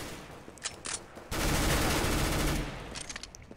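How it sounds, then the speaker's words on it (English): A P90 submachine gun fires in Counter-Strike: Global Offensive. A few single shots come first, then a sustained loud automatic burst of about a second, followed by scattered quieter shots and game sounds. "P90, it's probably one of my favorite guns that is not a sniper rifle"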